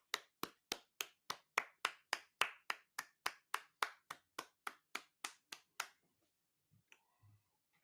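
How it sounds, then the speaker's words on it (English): Someone claps about twenty times in a steady, even rhythm, then it goes quiet except for a few faint knocks and rustles. "Give Frankie a round of applause"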